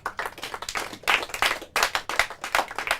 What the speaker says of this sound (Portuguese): Palmas para os navegadores.